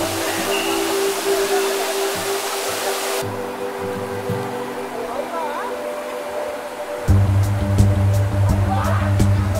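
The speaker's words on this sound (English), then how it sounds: "Dudhsagar Waterfalls is one of the tallest waterfalls in India" Dudhsagar Waterfalls in India, one of the country's tallest falls, gives a steady broadband roar heard from a distance, with a stronger low rumble in the last few seconds and faint voices mixed underneath.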